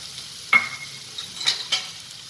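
Red chili powder and spices are stirred into a potato and pea filling in a pan, with a low background sizzle and a few distinct scrapes and clinks of a spoon against the pan.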